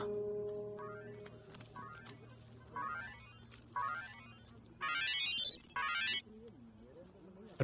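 A phone ringtone plays in repeated rising electronic chirps that grow louder and denser toward the end, over a quiet steady hum, followed by a sudden sharp sound at the close.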